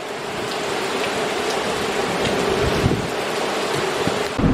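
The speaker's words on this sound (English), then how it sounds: "Getting a ton of rain though, I'll tell you that." Heavy thunderstorm rain pours down steadily in Mineola, New York, a dense, loud, continuous wash of drops with occasional sharper patters and no voices.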